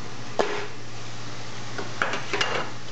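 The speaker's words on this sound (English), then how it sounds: "Give that a little mix." A sweet cabbage and mushroom mixture for bigos being stirred in a pot, heard as a few sharp spoon clinks against the pot spaced apart over a low steady hum.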